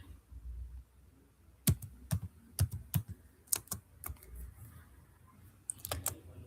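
Python code being typed on a computer keyboard: irregular bursts of crisp, close key clicks with short pauses between runs of keystrokes.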